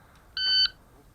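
A shot timer sounds one clear electronic start beep at an action pistol stage, lasting about a third of a second, close and loud against quiet background.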